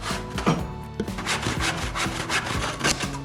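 A hand saw cuts through wood in quick back-and-forth strokes, each one a rasping scrape in a close, steady rhythm. No one speaks.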